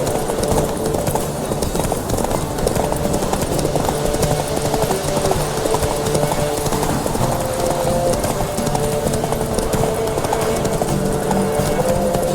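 Roach, a horse in The Witcher 3, gallops with steady, loud clip-clop hoofbeats running continuously throughout, layered over a dense game background of music and ambience.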